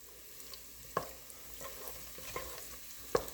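Sofrito being mixed in a cooking pot for arroz con gandules, heard as a few soft, scattered scraping knocks of a utensil against the pot over a faint background hiss.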